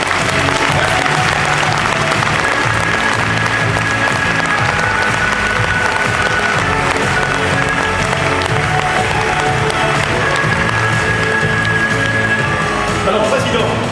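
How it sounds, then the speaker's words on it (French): Loud, sustained applause from an audience welcoming speakers at a Vendée cycling presentation evening, continuous dense clapping with crowd murmur mixed in throughout. "sous vos applaudissements bien sûr"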